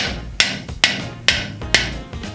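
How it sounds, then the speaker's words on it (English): Four sharp metal knocks of the back of a claw hammer striking an A&A push-in flap to seat it, evenly spaced about half a second apart, close and loud with no talking. "I'm actually gonna take the back side of my claw hammer and then hit it."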